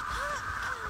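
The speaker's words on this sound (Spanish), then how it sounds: "son unos cuervos violetas." Purple crows cawing in a video game, a brief harsh caw under a low background hum, fairly faint.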